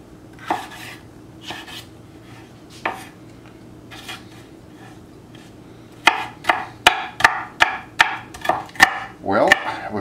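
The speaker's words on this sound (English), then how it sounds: "we're finishing chopping our pepper" A knife chops a pepper on a cutting board for fish chowder, with a few scattered taps early on, then a run of quick, sharp, evenly spaced chops close by.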